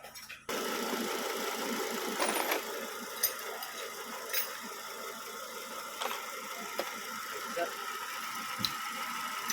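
A Volvo S60 engine idles steadily after a timing belt repair and bent valve replacement, a constant close mechanical hum with faint ticking and a few small knocks.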